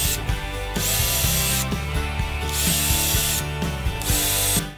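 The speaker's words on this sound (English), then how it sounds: "I'm drilling pilot holes here to avoid splitting the wood." A power drill bores pilot holes into wood while a crate storage bench is being built. The motor whines in loud, steady bursts broken by short pauses, and a ratcheting chatter runs through the bursts.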